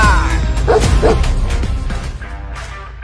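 Military war dog barking in short, loud woofs, with a couple of sharp yips near the start and the calls fading toward the end over steady background noise.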